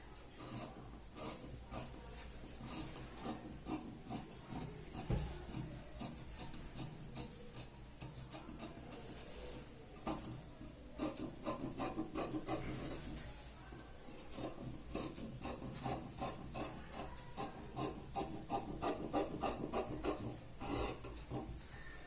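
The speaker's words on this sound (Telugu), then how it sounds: "ఇప్పుడు మనం ఫ్రంట్ పార్ట్ కటింగ్ చేసుకుందాం." Scissors snip steadily through plain blouse fabric while the front piece is cut out by a tailor, producing a long run of close, repeated rasping cuts with brief pauses, moderately near and with no talk.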